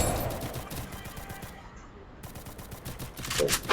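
Gunfire rattles in a shooting video game, with rapid, dense bursts of shots close up, a brief lull, then heavy firing resuming toward the end.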